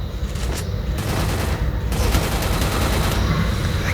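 Dense automatic gunfire from an MP40 submachine gun rattles continuously in a Counter-Strike match, loud and sustained, with game ambience underneath.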